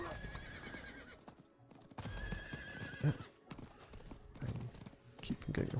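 A horse in a video game neighs and its hooves clip-clop in a loose rhythm, moderately loud alongside game sounds, while someone talks briefly over it.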